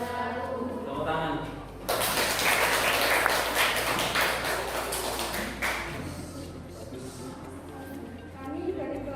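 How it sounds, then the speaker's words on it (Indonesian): A classroom breaks into applause after a group presentation, a dense burst of clapping from many hands that swells for about four seconds then dies away, with voices talking before and after. "Tepuk tangan."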